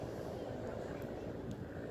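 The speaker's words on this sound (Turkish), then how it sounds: "Evet, bir helikopter geçiyor." A helicopter passes overhead near a beach where food is cooked on a grill, a low steady rumbling drone that stays faint and constant throughout with no clear rise or fall.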